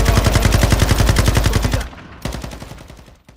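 Rapid automatic gunfire from Call of Duty: Modern Warfare II, loud and close: a steady rattling burst that cuts off sharply, followed by quieter scattered shots and fainter distant firing.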